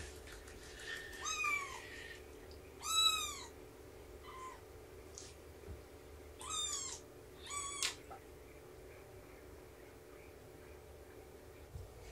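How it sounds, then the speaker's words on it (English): Kittens meowing in a quiet room, several high, short mews in small bursts with pauses between, fairly close and alone over a faint steady hum. "Enjoy the kittens."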